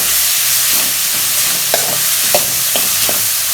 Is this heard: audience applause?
no